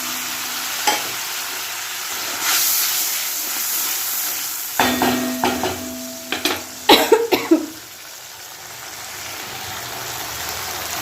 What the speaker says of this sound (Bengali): পটলের তরকারি করছি